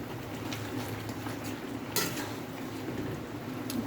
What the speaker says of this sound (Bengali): দেখুন মা ঢাকা খুলে দিয়েছে দিয়ে ভালো করে নাড়াচাড়া করে নিচ্ছে